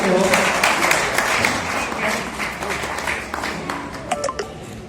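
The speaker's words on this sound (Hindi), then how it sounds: "आप लोग तालियों से गड़गड़ाहट से तो अपना स्वागत कर ही सकते हो" Crowd applause at an honouring ceremony for guests at a community association event, a sustained wash of many hands clapping, fading slightly toward the end with a few louder claps.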